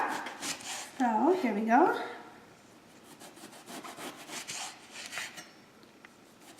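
A knife slices eggplant into quarter- to half-inch pieces on a cutting board, a series of soft close chopping taps and scrapes, while a person talks over the cutting.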